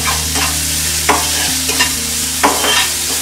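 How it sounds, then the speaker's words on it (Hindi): Prawns fry in a pan with a ground spice paste over medium heat, giving a steady close sizzle broken by a few sharp stirring scrapes and clinks, with no talking. "अब हम इसमें डालेंगे पीसा हुआ मसाला और प्रॉन्स को हम मध्यम आंच पे 2 से 3 मिनट तक भूनते रहेंगे।"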